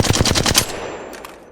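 A Flatline rifle in the Apex Legends video game fires a rapid automatic burst of about seven sharp, loud shots, then stops abruptly, leaving a fading echo and a couple of faint mechanical clicks.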